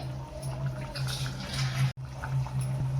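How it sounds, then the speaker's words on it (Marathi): Water splashes into a tuna biryani gravy of coconut paste, salt and extracted juice in a pan, a steady pouring and bubbling over a low hum with one brief cutout near the middle. "थोडं मी पाणी टाकते"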